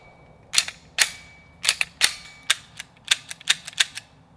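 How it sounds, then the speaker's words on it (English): Sharp, close reports from an HK USP Expert pistol, around a dozen shots fired in an uneven sequence, some in quick pairs, others spaced apart. "that's all I'm gonna shoot today with the USP Expert"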